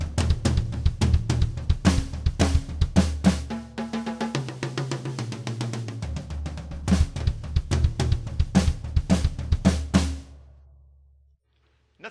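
Slow drum kit lick from a drummer tribute, with tom and bass drum rolls: steady, dense hits of toms, kick and cymbals played close and loud for about ten seconds before ringing out into silence.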